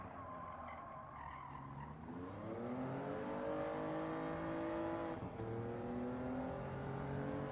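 A race car in the Gran Turismo 7 racing game revs and skids, engine tone rising steadily with a squealing tire slide, continuous and fairly loud with no talking.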